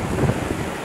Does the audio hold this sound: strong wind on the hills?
yes